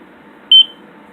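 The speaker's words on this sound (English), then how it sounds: "you'll hear a slight beep when it disarms" A single short, clean electronic beep from a drone flight controller (APM) as it disarms, fairly loud, against a quiet steady hum.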